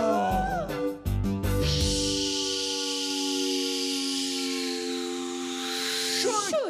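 Voices imitate a steam locomotive blowing out steam at a children's music show, a long breathy hiss held for several seconds after a short rhythmic chuffing start, with a sustained whistle-like tone beneath.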